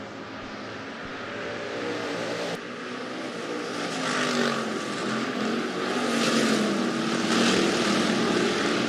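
Hobby stock race cars roar around the Rapid Speedway dirt track at the green flag, a loud, sustained engine drone that swells as the pack passes, with no voices.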